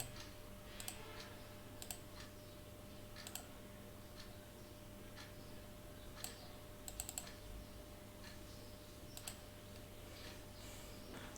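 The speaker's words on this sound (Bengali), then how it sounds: "এখানে আমি একটু নামটা টাইপ করে দেই" Sparse keyboard clicks tapped out in short bursts and single strokes, faint over a steady low hum.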